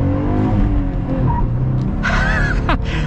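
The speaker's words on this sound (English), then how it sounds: "we got the tires to spin in a Jeep Gladiator because of my shifting" Jeep Gladiator with a manual transmission accelerating hard, the engine droning loud and close as the tires spin and give a short squeal partway through.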